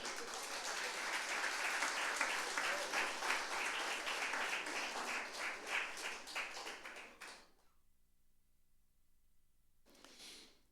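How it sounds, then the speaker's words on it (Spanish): A church congregation claps for several seconds, a dense and fairly steady applause that stops abruptly, followed by near silence and a brief flicker of sound. "Démosle palmas al Señor"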